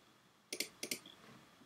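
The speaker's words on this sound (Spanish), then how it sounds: "os ponéis encima del fondo y le dais clic izquierdo" A computer mouse gives four crisp left clicks in two quick pairs while editing an image in Photoshop, close and sharp against a quiet room.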